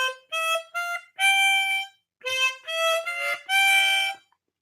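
A harmonica plays a short practice phrase of about seven blown and drawn notes in two groups, with a brief pause between them, clear and close with no talking.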